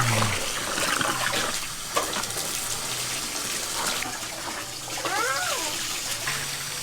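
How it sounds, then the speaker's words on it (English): A garden water hose sprays onto a child on a hot day, a steady hissing rush of water with splashes and shifting spray, while voices speak intermittently in the background. "Now give me the water hose, I'll cool you off, baby."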